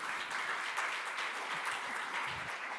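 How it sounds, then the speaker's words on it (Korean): An audience claps steadily to welcome a family court judge onto the stage at a guardianship conference, a dense, even wash of applause that stays moderately quiet and level throughout. "큰 박수로 환영해 주시기 바랍니다."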